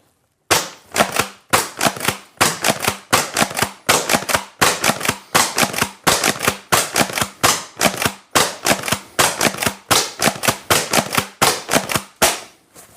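A CYMA CM.350 airsoft shotgun fires sharp, loud snapping shots in a rapid steady series, dozens of close cracks in quick succession, then a short gap before the last few, the final shot fired empty.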